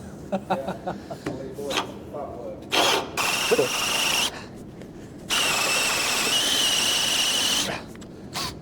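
Power drill boring through a plate on a Classic Mini build, whining in short bursts and then a longer steady run, with people talking in between.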